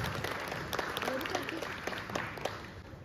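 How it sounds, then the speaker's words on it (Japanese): Applause at a kickboxing retirement ceremony, a hall crowd clapping steadily for a few seconds with a faint voice underneath. "ねぎらいの拍手をよろしくお願いいたします。"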